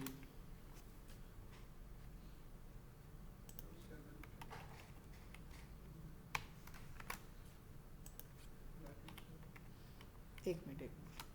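Soft, rapid keystrokes on a computer keyboard tapping in short irregular runs, faint and close, with someone speaking over the typing.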